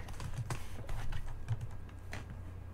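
Code is typed on a computer keyboard in quick, uneven clusters of crisp, close key clicks, with no talking.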